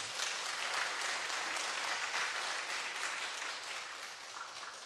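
Church audience giving a big round of applause, a dense, even wash of many hands clapping at once, sustained and fairly distant, tapering off gently at the end.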